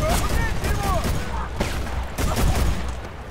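Rapid gunfire in Battlefield Bad Company 2, loud repeated shots and booms close by in a steady battle din, with voices talking over it.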